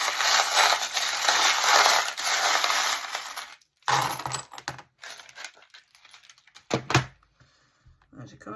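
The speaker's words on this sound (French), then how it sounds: "on va regarder les breloques maintenant" Small divination charms rattle and clatter as they are dropped and cast onto a surface, in a dense rush of clinks followed by a few scattered taps, close and fairly loud, with a voice speaking briefly.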